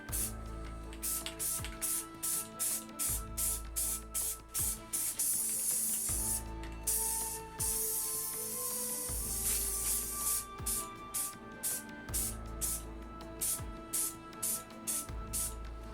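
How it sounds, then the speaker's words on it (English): A helmet is spray painted with Krylon Fusion white all-in-one paint and primer, giving a long series of close, repeated hissing bursts, each lasting about a second with short pauses between, over quiet background music. "we're going to take this helmet and we're going to give it a new coat of white paint"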